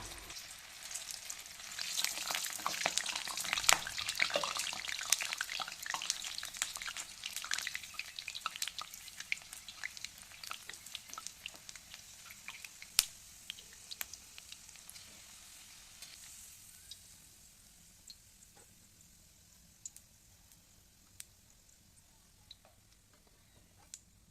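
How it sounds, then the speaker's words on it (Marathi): Vadi slices, a Marathi savory snack, frying in hot oil, with a busy, crackling sizzle that is loudest early on and slowly settles into quieter, sparse pops and ticks, with no voices. "आपल्या आवडत्या आकारात वड्या कापून तळून घेऊया"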